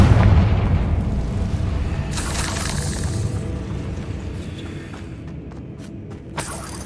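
Confringo spell blast in Hogwarts Legacy, a loud low boom at the start that rolls into a long rumbling decay, followed by a few faint crackles.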